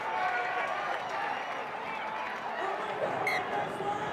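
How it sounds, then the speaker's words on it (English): A stadium crowd at a 2001 NRL rugby league match between North Queensland Cowboys and Brisbane Broncos: a broad, steady roar of cheering that holds through the whole stretch, with a commentator talking over it. "It's brought this crowd back to life again."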